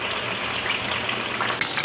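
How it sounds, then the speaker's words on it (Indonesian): Tempeh frying in hot oil with chili, shallot and kencur, a steady dense sizzle that holds loud and close for the whole stretch with no talk. "Kita goreng sampai matang."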